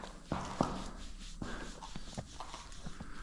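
Two-year-old horse walking on a first trail ride, its hooves landing in an irregular series of close, soft clops, with some faint snorting breath between steps.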